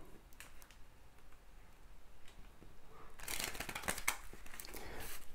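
Tarot cards shuffled by hand during a reading, a soft papery riffle and slap that swells into a louder, denser burst of card noise in the second half, close and with no speech.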